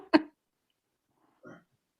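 A single short, sharp cough close to the mic, followed by a quieter brief vocal sound after a pause of silence.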